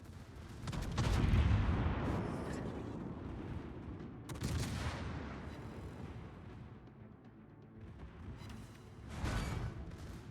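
Ohio battleship secondary guns firing in World of Warships, booming blasts with long rumbling tails, a heavy salvo early, a sharp crack mid-way and another volley near the end.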